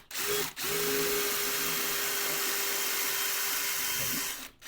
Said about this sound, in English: Now we've found the center, we can just go in with an 8mm bit.